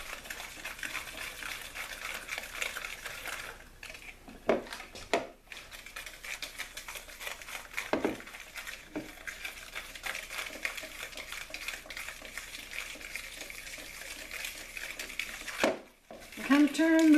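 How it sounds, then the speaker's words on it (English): Spoon stirring vanilla pudding mix with milk in a bowl, a faint continuous scraping and swishing with occasional clinks against the bowl, a voice speaking briefly near the end. "And then we stir it some more."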